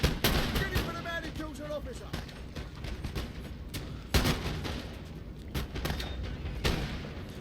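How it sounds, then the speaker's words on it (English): Musket volleys crackle and boom across a Napoleon: Total War battle as a regiment of foot fires, dense overlapping gunfire over a constant battlefield roar, with one sharper loud volley standing out midway. "A great volley there by the regiment of foot."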